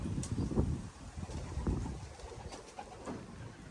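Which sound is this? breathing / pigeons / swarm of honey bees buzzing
pigeons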